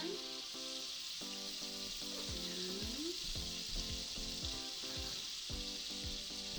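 Butter and lemon zest sizzling in a cast iron skillet, a constant bright hiss beneath a rhythmic musical backing track with punchy beats.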